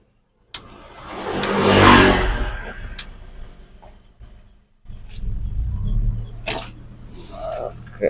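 A 2011 petrol car, fitted with an HCS rr Pro unit, creeps along in gear with the clutch released and no throttle. A low engine rumble swells and eases, drops out briefly, then returns.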